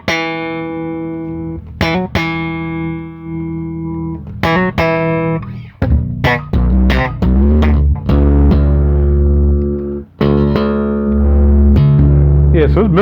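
A Squier Jazz 5 Classic Vibe five-string bass with an active EQ is played close and loud, with plucked notes and short runs whose tone shifts as the EQ changes.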